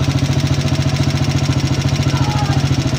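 A motorcycle engine with a rattling, coin-like noise inside idles close by with a steady, rapid pulsing chug that stays even throughout, loud and alone.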